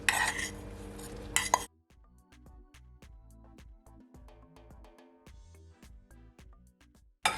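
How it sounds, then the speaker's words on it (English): A spoon folds mixed vegetables into cooled potato salad, producing soft, close scrapes and light clinks in an uneven rhythm against a bowl, fairly quiet, after a brief burst of louder noise at the start. "Gonna mix till combine"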